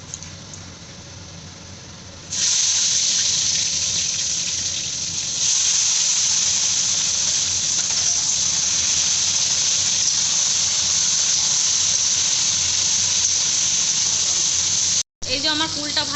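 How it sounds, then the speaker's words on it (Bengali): Jujubes (kul) drop into a hot wok with dried chilli and five-spice seeds for a sweet-sour pickle, setting off a sudden loud sizzle that hisses steadily for many seconds, briefly cutting out near the end before resuming. "এই যে কুলটা আমি এবার কড়াইয়ে ছেড়ে দিচ্ছি।"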